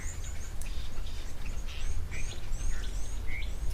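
Small birds chirp and tweet at a waterhole, with repeated short high calls scattered over a soft steady outdoor background, fairly close and moderately faint.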